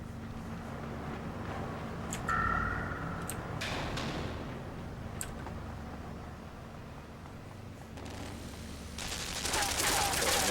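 Machine gun fire in the side-scrolling game Limbo comes as a few scattered bursts of rough, crackling noise over a low, steady hum, with a longer, louder burst near the end.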